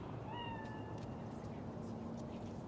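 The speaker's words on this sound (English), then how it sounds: "Chill, just a cat." Cat meowing in the video game Cyberpunk 2077: one drawn-out meow near the start, set over a steady ambient game background, with voices in the scene.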